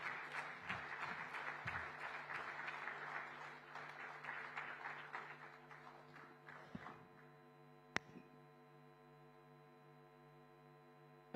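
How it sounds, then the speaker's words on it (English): Applause welcoming Chief Minister Devendra Fadnavis at a convention hall in Mumbai, clapping that fades out after a few seconds into a quiet steady hum with a single sharp knock near the end. "please let's welcome with a resounding round of applause, Honorable Chief Minister of Maharashtra, Shri Devendra Fadnavis ji"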